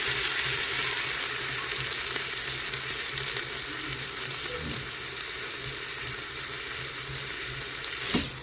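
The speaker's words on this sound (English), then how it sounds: "I just like it all to be kind of seared evenly." Roast meat sears in an Instant Pot, giving a steady, close, even sizzling hiss that runs unbroken for the whole stretch with no talking over it.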